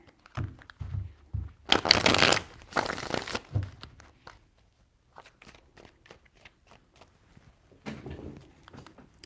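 Tarot cards being shuffled give two loud, riffling bursts close up, followed by soft shuffling and tapping. A fainter bout of shuffling comes near the end, and there is no speech.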